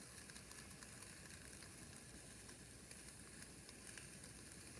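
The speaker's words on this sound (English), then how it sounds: "nice sizzle there." Two brat patties sizzling on a grill grate inside a Cosori air fryer, a steady dense crackling hiss that holds evenly throughout at close range, with no talk.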